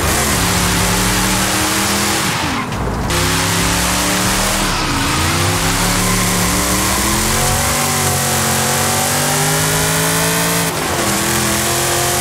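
Ferrari Daytona engine in Forza Horizon 5, loud and continuous throughout, revving up and down in repeated rising and falling sweeps with brief gear-change dips, close and dominant with no talk.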